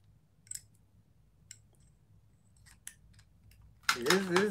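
A few crisp scissor snips, sparse and close, spread over a quiet stretch before a voice starts talking near the end.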